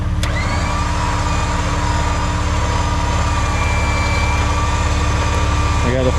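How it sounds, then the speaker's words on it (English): A winch tensions a strap on a Jeep TJ anchored to a tree in a front yard, producing a loud, continuous motor whine over a steady low engine hum that holds throughout, ending with a faint clank. "currently tensioning the winch"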